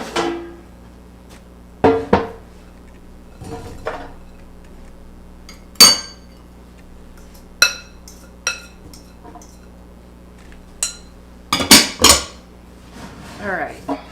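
Pecans tossed into a metal air fryer basket, several sharp clinks and rattles spaced apart in a quiet kitchen, with a steady low hum underneath.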